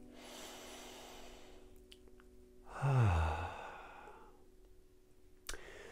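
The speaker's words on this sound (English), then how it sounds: "Let's all just take a deep breath right now." A single deep breath, a slow audible inhale swelling into a breathy sigh-like exhale, close and fairly clear against a quiet background with a faint hum.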